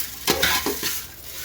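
Spices are stirred while being dry-roasted in a large pan for Brahmin-style saaru (rasam) powder, a few quick, soft scraping strokes close by.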